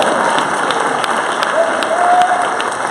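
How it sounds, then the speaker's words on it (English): An audience at a college HIV/AIDS prevention talk claps and cheers, a dense, loud burst of applause with scattered whoops and a voice rising above it throughout. "Clap it up for me."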